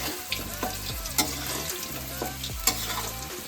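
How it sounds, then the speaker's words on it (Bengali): Parboiled potato pieces frying in hot oil, a steady sizzle broken by a few louder stirring scrapes and clatters close by, with no voices. "লাল লাল করে আলু ভাজা করে নিচ্ছি"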